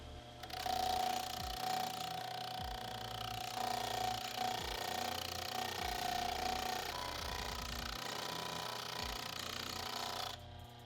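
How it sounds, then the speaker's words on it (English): Bench grinder fitted with a polycarbide wheel grinding casting marks off dirt bike fork lugs, a loud steady rough grinding whir with shifting pitch as the part is pressed and moved, running continuously for about ten seconds. "The first wheel I'm going to try out is this polycarbide wheel. Now it's meant for this type of grinder right here, but I'm going to give it a shot on the bench grinder."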